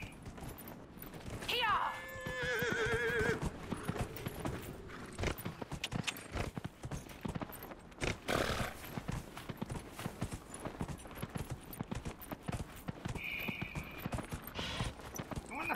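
A horse in the Dragon Age: Inquisition Hinterlands gives a rising whinny early on, followed by steady clip-clop hoofbeats trotting throughout, with a brief later neigh and a voice talking over the game sounds.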